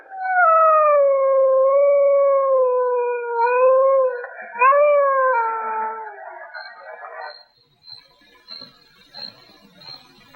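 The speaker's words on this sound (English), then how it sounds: "See what that dog's howling about." A dog howls in one long, wavering, fairly loud cry lasting several seconds, rising again briefly near the middle before fading into quiet with faint scattered sounds afterward.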